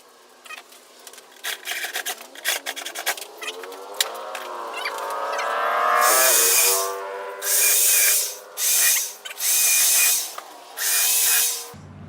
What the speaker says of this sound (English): That'll hold it in place while we drill all our other holes.